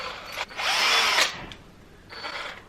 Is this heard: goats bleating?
no